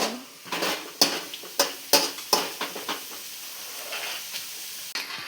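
Ginger paste being mixed and roasted in a pan over a low flame: sharp spoon knocks and scrapes against the pan in a quick run, over a soft hiss of frying.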